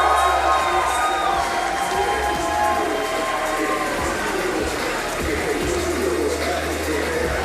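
A sold-out wrestling crowd at the Commodore in Vancouver cheers and roars after a debut match, a dense, sustained wall of voices with scattered shouts and whistles, loud and continuous.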